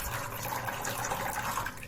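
Water pours in a steady continuous stream from the lid holes of an IQ Be Traditional 20 cm, 3.3 litre saucepan as it is drained, a close, even splashing with no talk.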